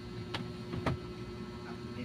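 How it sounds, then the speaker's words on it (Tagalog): An electric fan whirs steadily in a home kitchen while pork afritada is being cooked. The low, even hum runs throughout, broken by a couple of soft clicks. "Nasagap yung ikot ng electric fan."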